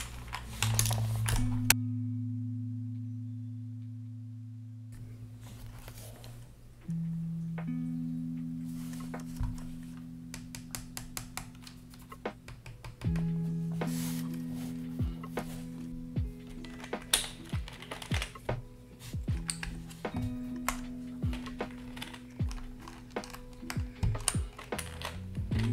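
Keys clatter on a Tecware Phantom TKL mechanical keyboard fitted with black keycaps, steady bursts of close clicky typing running alongside a low sustained musical background.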